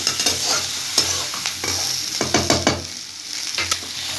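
A spoon stirs a potato appe mixture with coriander leaves and ajwain in a pan, giving repeated scraping strokes over a soft sizzle, close and steady with no talk.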